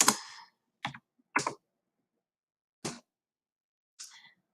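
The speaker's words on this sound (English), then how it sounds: "as fast as you can, you're going to be typing in the answers" A few separate bursts of clicky keyboard typing, short flurries of keystrokes separated by pauses of silence, fairly close.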